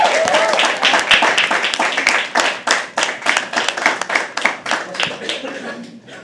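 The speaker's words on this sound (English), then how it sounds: "Keep clapping till you come to the stage." An audience at a live poetry open mic claps continuously, a dense and lively patter of hands that holds steady and then thins slightly toward the end, with voices underneath.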